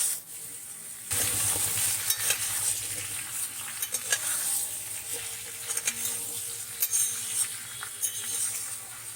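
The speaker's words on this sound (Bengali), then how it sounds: "দিয়ে ভালো করে নাড়াচাড়া করবো।" Pumpkin pieces sizzle in a hot pan while a utensil scrapes and stirs them in irregular strokes, close up, with no talking.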